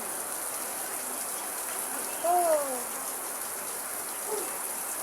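Steady rain hisses evenly throughout, with a brief spoken exclamation partway through.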